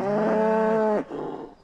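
A cow on a mountain road gives one loud, close, drawn-out moo lasting about a second, followed by quieter low rustling and a softer fading grunt.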